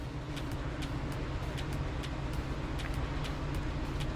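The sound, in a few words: Maytag Centennial washer running high spin cycle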